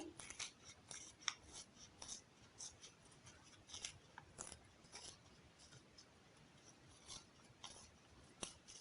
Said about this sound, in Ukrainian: Ножицями вирізаємо з цього квадратика круг. Отже, зрізаємо всі куточки.